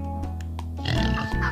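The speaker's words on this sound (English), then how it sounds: "Oh, the pig!" A pig oinks in the Turnip Boy Commits Tax Evasion video game, a few short grunting snorts rising over a steady background music bed, fairly close and moderately loud.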